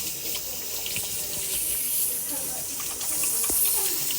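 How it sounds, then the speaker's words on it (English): Hands are washed under a running kitchen tap during brownie baking, with a steady, fairly loud rush of water and small splashy changes as the hands move through the stream. "Miss Harris, you need to wash your hands too"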